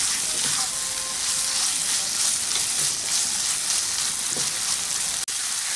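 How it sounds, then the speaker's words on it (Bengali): Chhana (cottage cheese) sizzles steadily in hot spiced masala, a continuous broadband frying hiss with faint stirring, closely miked and with no voices. "এখন এই কষানো মশলার মধ্যে ছানাটা দিয়ে দিলাম। দেড়-2 মিনিট মতো মশলার সাথে কষিয়ে নেব ছানাটা।"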